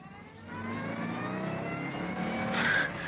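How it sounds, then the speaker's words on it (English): A fast sports car's engine runs and accelerates in an audio drama, a steady loud roar building toward the end. "A fast sports car. Keys in the ignition. I got behind the wheel as Holly vaulted beside me"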